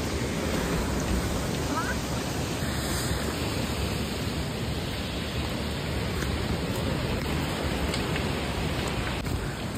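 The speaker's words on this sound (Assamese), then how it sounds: "নদীৰ আৱাজ শুনিছে এইপিনে" River rushing through jungle near Tinsukia, a steady broadband wash of flowing water that stays dense and constant throughout, with faint hints of voices in the background.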